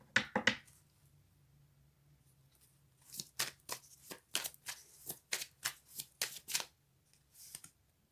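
Tarot cards are shuffled for a reading: a few quick riffles at first, then after a pause a run of about a dozen crisp, close shuffling bursts in a steady rhythm.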